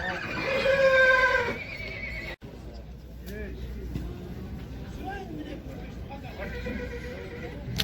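Young male horses neigh at a livestock market in Almaty: a loud, close whinny rings out over the first second and a half, then gives way to a steady crowd murmur with people talking and fainter animal calls.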